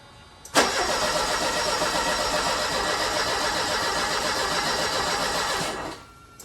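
An old Mercedes 190E engine cranks continuously for several seconds with a dense, whirring grind, loud and close, then cuts off without catching.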